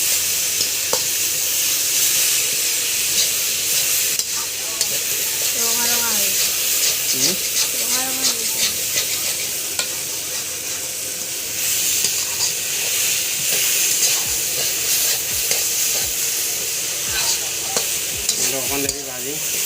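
Buffalo meat frying in a pan with salt and turmeric, stirred with scraping strokes over a constant hiss and sizzle, while a voice speaks faintly at times.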